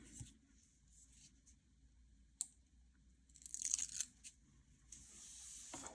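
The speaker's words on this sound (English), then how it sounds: "I'm going to peel off the backer of the tape" Paper backing is peeled off craft tape during a papercraft project, giving a short crackling, ripping burst midway and another at the end over a quiet room.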